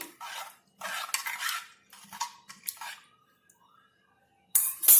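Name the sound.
stirring khichdi ingredients together in a pot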